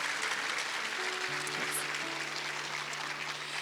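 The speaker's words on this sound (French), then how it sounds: "on peut les applaudir." An audience applauds after a marriage conference panel, a dense, steady wash of clapping from many hands heard from within the room.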